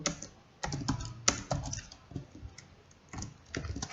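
Rapid, uneven clicking of computer keyboard keys as JavaScript code is typed, close and alone with no voices.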